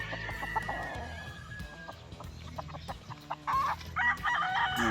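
Gamefowl roosters at a game farm crow loudly and repeatedly, with clucking from several birds scattered around a busy, noisy yard.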